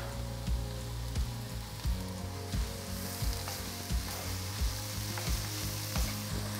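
Tomato sizzles and fries in a pan for a lentil farofa with bacon and mortadella. A steady close crackle runs throughout, with rhythmic scraping and stirring knocks about every half second.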